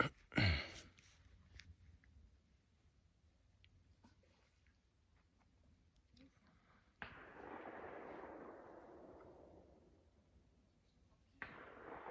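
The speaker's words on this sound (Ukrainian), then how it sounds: "Знову постріли." Distant gunshots sound near a pond in Ukraine as sharp, faint reports, one early crack followed later by two longer rolling booms that fade slowly.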